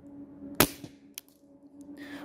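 An HDR 50 gun fitted with a 1-metre barrel fires one sharp, close crack, followed by a fainter click about half a second later, in an otherwise quiet outdoor setting.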